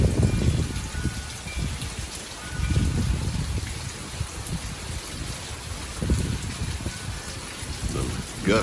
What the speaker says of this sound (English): sitting here on the porch with the wind blowing, it blows rain in here on you